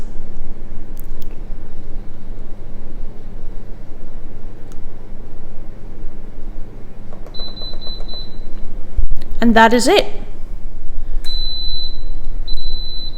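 A pressure cooker set to sealing and switched to a 45 minute pressure cook beeps a few times, in short high electronic tones near the middle and end, over steady kitchen background noise. A single person speaks briefly.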